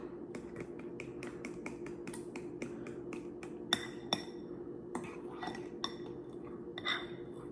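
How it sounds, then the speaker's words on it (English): Whisk clinking quickly against a bowl while mixing cold milk and pudding powder, a soft rapid series of light metallic taps over a low steady background hum. "continue to whisk because we don't wanna get any chunks in there at all"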